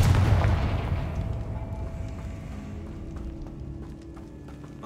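A Confringo fire spell explodes in Hogwarts Legacy with a loud, deep boom up front that rolls away into a long rumbling decay with scattered crackles, no voices over it.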